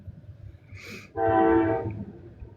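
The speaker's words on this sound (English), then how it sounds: "Sorry about the train, y'all." A train horn blows one strong, sustained, harmonic blast near railroad tracks by a home. A brief higher whistle-like tone comes just before it, with low rail rumble underneath and no talking.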